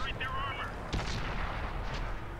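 A tank's main gun fires a premium armour-piercing round in World of Tanks, played as the Japanese O-I Experimental heavy tank: a single heavy blast with a rumbling tail, loud over steady engine and battle noise.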